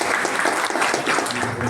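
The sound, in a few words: applause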